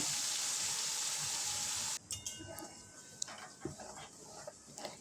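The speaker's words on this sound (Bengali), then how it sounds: "ওই পনির ভাজার তেলেই ফোড়নে দিয়ে দেব গোটা জিরে আর গোটা গরম মশলা দিয়ে দেব দুটো শুকনো লঙ্কা" Whole cumin, whole garam masala and dried red chillies hit oil left over from frying paneer, giving a loud, steady hiss for about two seconds before dropping to quieter, scattered crackles.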